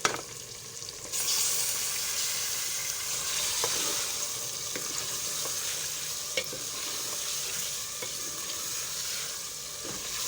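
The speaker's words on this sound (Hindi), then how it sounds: "अब इसमें हम चिकन शामिल करेंगे।" Chicken goes into a hot frying pan for aloo gosht and sizzles steadily, with occasional stirring clicks and scrapes under the constant hiss, and no speech.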